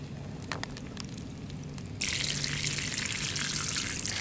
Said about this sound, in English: We'll just filter the water through here, catch all the big crap